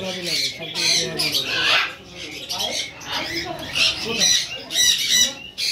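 Lovebirds squawk in a crowded bird market in Mirpur, their harsh, overlapping calls bursting repeatedly over a busy background of voices and other birds.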